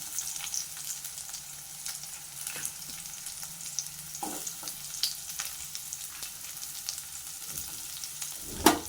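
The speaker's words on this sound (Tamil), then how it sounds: "பூண்டு செவந்துருச்சு வெங்காயம் சேர்த்துக்கலாம்" Onions and garlic frying together in a pan for a dried-fish curry give a steady, close sizzle with occasional stirring scrapes and a sharper clatter near the end.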